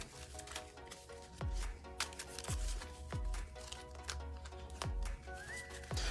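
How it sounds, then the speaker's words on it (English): A Cardfight Vanguard Gear Chronicle deck is shuffled by hand with repeated riffles and soft taps as the cards settle, close up, in a steady rhythm. "Let's shuffle up one more time."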